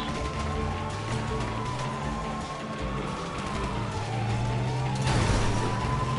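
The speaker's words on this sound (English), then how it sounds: "I'm in the car with James." A car is driven in the GTA Online video game during a heist, its engine a steady hum that rises and falls with gear changes, loud and close with tire noise and a siren-like whine in the mix.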